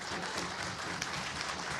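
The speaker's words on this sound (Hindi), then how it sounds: "एक बार ज़रा खुल के ताली बजाइए।" Audience applause at a political stage event with poets, a dense steady wash of many hands clapping throughout, fairly distant and even.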